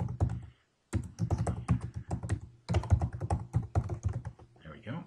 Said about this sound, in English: I'm just gonna type in North Texas inspections.